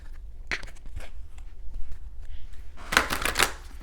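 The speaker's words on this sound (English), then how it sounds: "Gotta shuffle one more time." A deck of oracle cards is shuffled by hand in quick papery bursts, a brief riffle early on and a louder, denser flurry near the end, with no talking.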